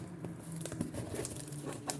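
Packing tape pulled off a small parcel containing plants, producing faint, quiet crinkling and short tearing rips in quick irregular bursts at close range.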